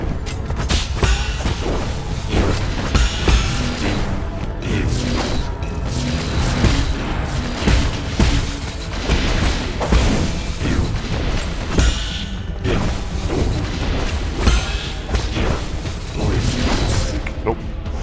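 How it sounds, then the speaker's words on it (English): Repeated booming bomb blasts and crashing impacts in the action game Nine Sols, dense and loud throughout amid continuous combat noise, with a voice talking over parts of it. "God, the bombs are really annoying."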